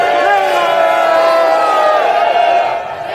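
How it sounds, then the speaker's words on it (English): A large crowd roars at an outdoor street rally, a dense sustained wall of massed voices and cheering, loud and steady throughout with no clear individual speech. "None of his previous rallies had drawn a crowd this big."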